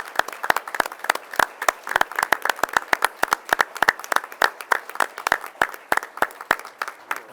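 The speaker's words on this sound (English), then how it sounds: "let's give them a round of applause for where they are" An audience at a school board meeting claps steadily for a graduating cohort, a dense run of sharp hand claps at close range, with no talking.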